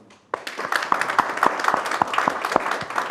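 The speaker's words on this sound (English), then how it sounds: "I think you all deserve a round of applause." Conference audience at a panel session on security sector governance in Africa breaking into applause, a burst of dense clapping that starts abruptly after a brief hush and continues steadily.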